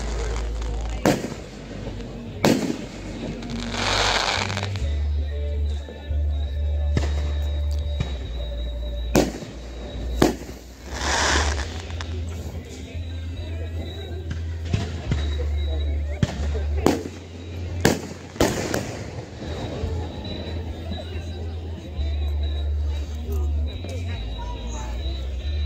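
A full fireworks show bangs and crackles across the whole stretch, with sharp irregular explosions over a steady low rumble, some near and loud, and people talking at a distance underneath.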